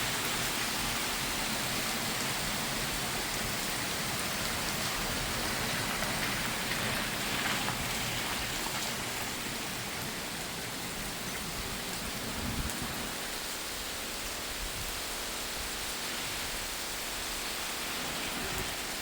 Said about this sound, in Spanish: Creo que oficialmente ya inició la lluvia.